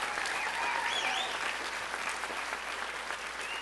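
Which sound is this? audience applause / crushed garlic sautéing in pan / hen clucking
audience applause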